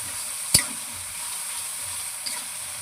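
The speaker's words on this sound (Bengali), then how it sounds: "1 চামচ আর আধা চামচ দিয়েছি আদা। ভালো করে নেড়ে নেব" Ginger and garlic fry in oil while being stirred for a crab dish, giving a steady close sizzle with one sharp utensil click near the start and a faint knock later, and no voices.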